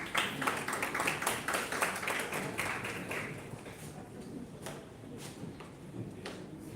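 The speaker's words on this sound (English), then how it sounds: "Great round of applause for him." An audience at a national-level oratory contest claps for a participant, a round of applause that is fairly quiet and distant, strongest at first and thinning out toward the end.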